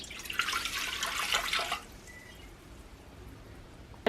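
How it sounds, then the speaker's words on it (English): Water pours into the pan of a Panasonic bread machine, a close, bright splashing stream lasting under two seconds before cutting off into quiet room tone. "First step is adding the water"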